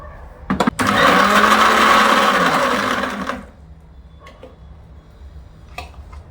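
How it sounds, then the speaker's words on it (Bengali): An electric mixer grinds a paneer masala paste with coriander leaves in a loud, steady whir of about three seconds after a few clicks, then cuts off, leaving quiet room sound with faint knocks. "আগে পেস্টটা একবার পেস্ট করে নিচ্ছি।"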